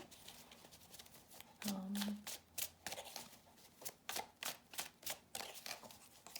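Tarot cards are shuffled close by in quick bursts of soft flicking riffles that repeat in a fairly regular rhythm, quiet overall with a brief low hum near the start.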